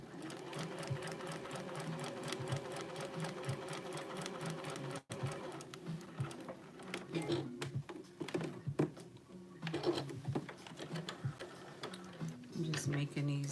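Domestic sewing machine running long basting stitches for gathering fabric, a steady rapid mechanical chatter that pauses briefly and resumes in shorter bursts, with someone talking over it at times.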